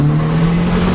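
Volkswagen Santana turbo car under acceleration, a steady loud engine drone with a strong low hum holding nearly constant pitch, heard from inside the car without talk.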